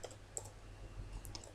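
Two faint, sharp computer mouse clicks, a few tenths of a second apart in quiet surroundings, as a Python file is saved and run.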